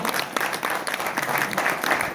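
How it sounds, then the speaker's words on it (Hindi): Enthusiastic audience applause at a company honours event in India, loud and close with distinct individual claps standing out from a busy crowd rhythm. "उस ग्रेट पर्सनैलिटी को मैं एक बार जोरदार तालियां चाहती हूँ"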